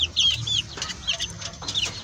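Young chicks raised as pets, near stag or pullet age, cheep and cluck in short high chirps repeated every half second or so over steady low barnyard noise, close and moderately loud.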